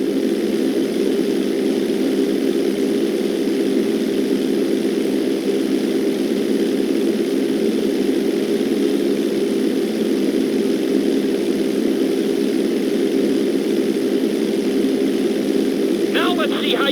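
A light propeller airplane engine drones in the GTA 5 flight school video game, a steady, even hum that holds at constant loudness for the whole stretch, with a brief higher blip near the end.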